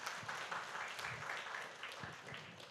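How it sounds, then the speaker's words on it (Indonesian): An audience claps at an indoor gathering, a moderate, even patter of hands across the room lasting a few seconds, with a little faint talk mixed in. "Mungkin boleh beri tepuk tangan."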